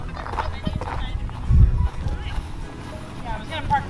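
A horse's hooves clop on a farm near a parked truck, with one heavier cluster of steps midway, while people talk nearby.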